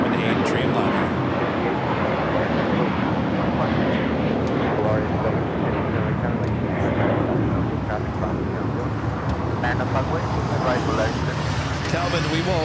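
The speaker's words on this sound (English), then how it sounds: "this is Latam Airline Flight 1603 heading to Santiago, Chile, 787-8 Dreamliner." A LATAM Boeing 787-8 Dreamliner departing LAX for Santiago, Chile, gives a loud, steady jet roar that fills the whole stretch, with a voice talking over it.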